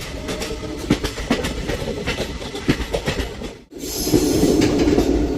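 Passenger train running on rails toward the Dudhsagar waterfalls, heard from inside near the door: steady rumble with rhythmic clickety-clack wheel beats, a brief dip as it passes something, then a louder, denser roar.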